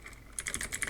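Quick keystrokes tap on a computer keyboard, a short burst of close, crisp clicks in a steady rhythm with no voices.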